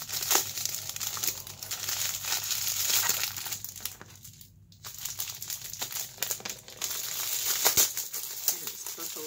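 Heavily taped mailed birthday package being opened, with steady crinkling and tearing of tape and wrapping up close, and a person speaking at times.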